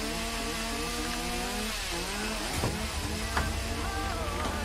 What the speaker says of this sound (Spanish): Me está volviendo loca con la motosierra este señor